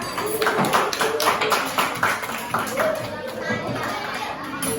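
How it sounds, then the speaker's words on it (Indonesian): Applause from a classroom of students: a brief patter of claps at close range that fades out, with chatter and voices mixed in. "Beri tepuk tangan untuk kita semua."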